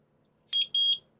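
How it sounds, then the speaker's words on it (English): Two short, high-pitched electronic beeps sound close together in a quiet room, from a eufy Security S100 wall light camera during setup. "Heard 2 beeps."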